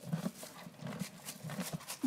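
Horses pull a cultivator through garden rows, giving a steady run of soft hoof thuds and faint scraping over about two seconds, moderately close, with no talk.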